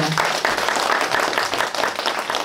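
Warm applause from an audience at the founding ceremony of a Chinese-Korean digital poetry society chapter, dense steady clapping close by for a couple of seconds.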